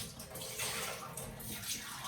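Water pours steadily into a cooking pot for a second batch of comfort food, a soft continuous rushing splash with no talk over it.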